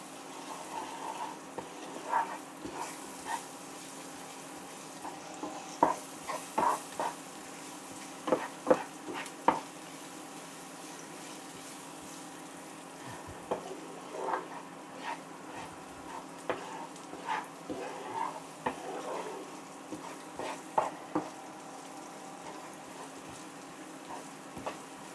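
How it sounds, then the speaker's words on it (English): Onion with salt and pepper cooking in a pan, a soft sizzle under scattered stirring scrapes and taps from a spoon, quiet and close. "we're just going to cook this for a minute."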